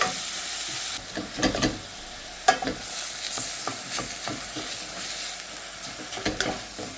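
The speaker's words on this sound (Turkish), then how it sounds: "Kıymayı iyice kavuruyorum" Minced meat fries with a steady broadband sizzle in a pan while a spoon scrapes and stirs in irregular clicks and scuffs, close and moderately loud, with no voices.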